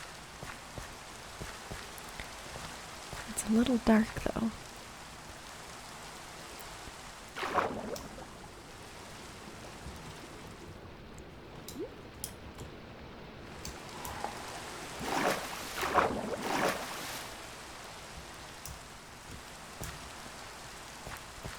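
Soft, steady rainfall in Minecraft patters evenly throughout, with occasional louder swells and a few brief game sounds over it; a quiet voice speaks once.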